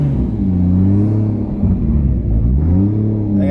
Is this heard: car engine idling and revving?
yes